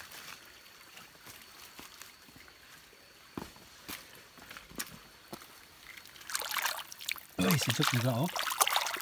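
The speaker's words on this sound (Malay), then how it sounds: "di sini ada anak sungai" Soft trickling of a mountain stream runs quietly under a few clicks and footsteps, then grows louder and splashier near the end; a person speaks briefly.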